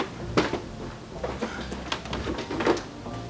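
Front bumper of a BMW 135i being pulled off by hand, giving a run of plastic clicks, pops and scraping knocks as the clips release, close and moderately loud, with no talk.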